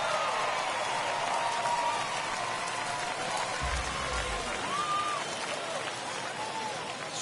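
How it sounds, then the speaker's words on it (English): A baseball video game plays a steady hiss of rain coming down over the ballpark, an even wash of falling drops with a few faint higher chirps on top. "it's really starting to come down out there."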